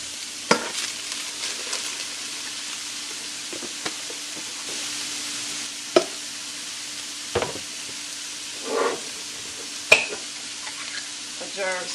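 Browned ground beef and cauliflower rice sizzle softly in a pan under a steady hiss, with a few sharp spoon scrapes and knocks as the food is stirred.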